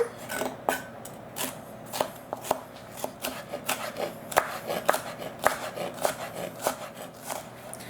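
A knife chopping baby sweet bell peppers into small cubes on a board, crisp close taps in an uneven but steady series of roughly two per second, with no talking.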